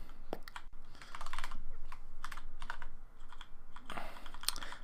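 Close, irregular clacking of keys being struck hard on a computer keyboard, scattered taps giving way to denser bursts, no voices present.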